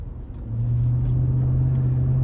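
A 2011 GMC Yukon SLT with the 5.3-liter V8 accelerates, its engine drone rising into a steady, loud low hum heard from the cabin with no talk.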